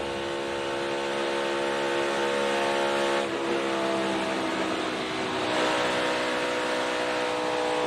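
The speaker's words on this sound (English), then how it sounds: "Lifted pretty early and back to the throttle way quick, but had to come back out of it" A NASCAR Cup race car engine running at high revs at Daytona, a loud continuous harmonic roar that dips briefly as the driver lifts and then comes back on throttle, steady and close with no voices.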